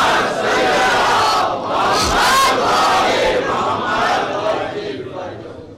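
A congregation at a Muharram majlis chants a religious slogan in unison, a loud, dense crowd roar that rises and swells with a brief peak near the middle, then tapers slightly at the end.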